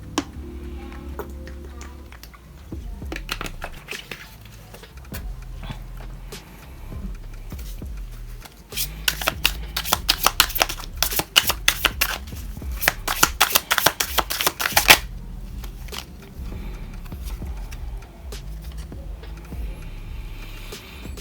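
A deck of cards is shuffled for a card reading, with dense bursts of riffling and flicking that grow busier in the middle and then fall back to softer handling.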